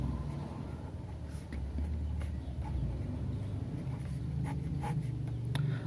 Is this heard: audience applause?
no